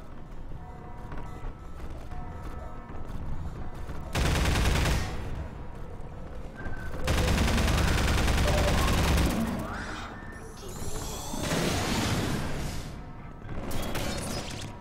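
Gunfire in Half-Life, bursts of dense rapid shots and crashes in several loud waves with quieter stretches between them.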